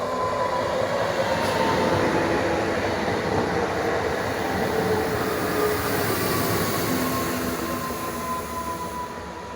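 A Pesa Impuls 36WE electric multiple-unit train rolls by with a loud, steady rumble and faint wheel whine, holding constant before easing slightly at the end.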